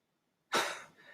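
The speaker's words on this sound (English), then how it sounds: "Let me clear my throat." One short, sharp throat clearing sounds close and alone, a quick rough burst out of silence that fades away within half a second.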